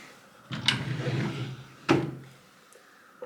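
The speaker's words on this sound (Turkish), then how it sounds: "2 tane de şöyle küçük çekmeceleri var." Small drawers of baby room furniture slide open and shut, a rolling wooden rumble followed by a sharp knock as one closes, then a second bump; close and fairly loud with no talking.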